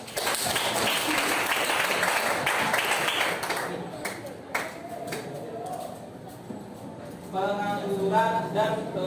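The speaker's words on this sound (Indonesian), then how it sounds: "tepuk tangan dulu buat temannya." Students in a classroom clap for a classmate, a dense burst of applause that fades after a few seconds, followed by scattered claps and a voice talking near the end.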